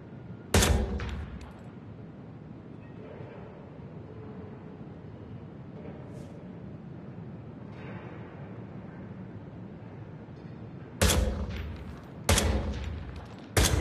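Bursts of gunfire in the Hitman 3 VR game on Meta Quest 3: a loud volley at the start, then a quiet stretch, then several sharp, close bursts near the end.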